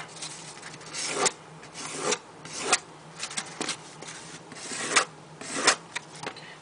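A knife is sharpened the cheap way in repeated rasping strokes, each a rough scrape that swells and fades in a regular rhythm. The strokes are close and clear, with no talk over them.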